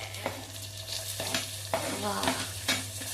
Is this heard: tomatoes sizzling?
yes